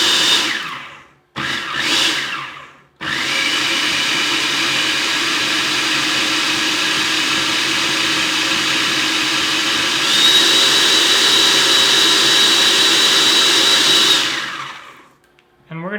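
A blender whirs loudly as it grinds sugar and cornstarch into powdered sugar, running in short pulses and then a long steady spin whose pitch rises partway through before it winds down.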